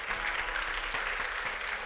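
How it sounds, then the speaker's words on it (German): A church congregation claps steadily through a Sunday morning service, a dense, even wash of applause held at one level throughout with no voices rising above it. "We hebben hem een applaus gegeven van deze morgens."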